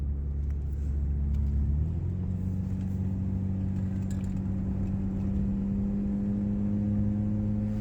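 A 1992 Jaguar XJ6 Sovereign with an automatic transmission is revved while it refuses to climb past about 2,000 RPM. The engine drone is loud and steady, shifting up in pitch early and then holding a constant hum.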